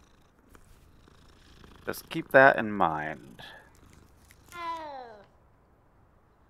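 Cat in Hogwarts Legacy making a short burst of purring and a rising meow, close and clear, with a person speaking briefly just before.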